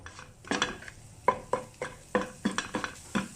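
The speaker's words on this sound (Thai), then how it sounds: "แล้วก็ผัดกะปิกับน้ำมันนี้ก่อน" Repeated scraping and clinking of a utensil stirring shrimp paste in oil in a coated pan, about a dozen quick strokes in steady rhythm, with a faint sizzle beneath.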